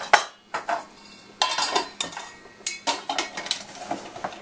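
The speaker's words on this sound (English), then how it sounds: "Now I'm going to mix this all together very well." Spices for curry butter are mixed with a metal utensil in a bowl, producing a rapid series of clinking, scraping strokes in uneven bursts, close and clear, with no talk.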